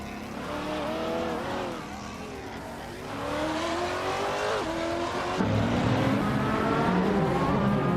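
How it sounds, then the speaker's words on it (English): A 2011 Ferrari 458 GT3 race car in a racing video game screams through rising and falling gear changes, with loud continuous engine revving, tire squeal hints and other cars around, no talking. "Amy is driving a 2011 Ferrari 458G T3"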